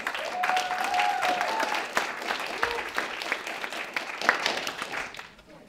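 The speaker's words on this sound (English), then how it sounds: "So everyone, round of applause, please." Audience applause at a startup pitch event at Dartmouth College, sustained clapping with a brief whistle early on, gradually tapering off toward the end.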